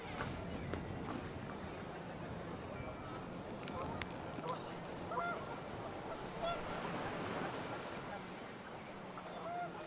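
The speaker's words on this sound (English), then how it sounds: "panicked geese appeared and quickly went" A flock of panicked geese honks repeatedly in What Remains of Edith Finch, their overlapping calls rising and fading over a steady bed of wind and ambient noise for the whole stretch.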